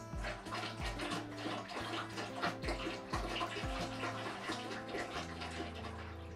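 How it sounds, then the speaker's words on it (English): Spring water pouring into plastic winemaking buckets, a continuous splashing gush with glugging pulses, fairly close and steady throughout. "we're going to top up to the 23 liter mark with our spring water."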